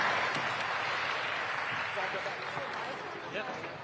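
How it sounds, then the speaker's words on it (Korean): Audience applause for departing circus artists at a press conference, a broad clapping wash that slowly fades, with a voice speaking over it. "박수 부탁드리겠습니다"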